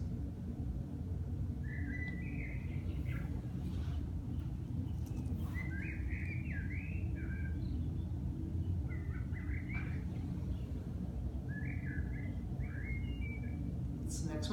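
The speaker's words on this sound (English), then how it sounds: "Now you hear birds." Birds chirp in short, repeated bursts every couple of seconds over a soft, steady background hiss.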